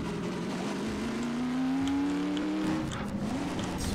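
A car driven in Half-Life 2: Episode Two, its engine note rising and falling as it revs and accelerates, loud and steady, with faint game sounds underneath.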